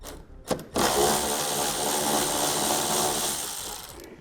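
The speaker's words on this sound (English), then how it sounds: "take out our last 2 push pin fasteners. We'll have 1 on each side in the same place, and also the last 10mm headed bolt here on the outside" A power tool whirs steadily beneath a vehicle while push-pin fasteners and a 10mm bolt are removed during a Derale transmission cooler install, starting after a brief knock and holding a sustained, close, buzzing drone.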